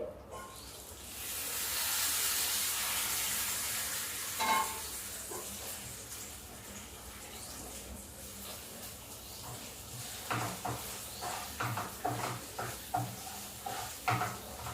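Moringa drumsticks and onions frying in a pan, a loud steady sizzle and hiss that fades gradually, then a run of rhythmic scraping and clattering stirring strokes over the softer frying.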